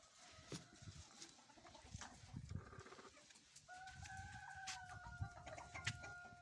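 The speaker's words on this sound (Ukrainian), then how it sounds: "Ось гурчать курочки." Backyard chickens wandering outdoors, clucking softly nearby with a rooster crowing, a steady mix of low murmuring clucks and brief calls, no talk.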